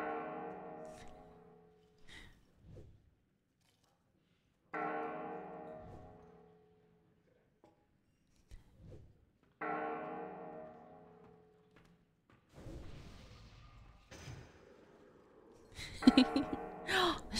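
Bell strikes in World of Warcraft, ringing out one at a time at roughly five-second intervals, each with a bright attack and a long fading ring, with brief voice sounds between the strikes.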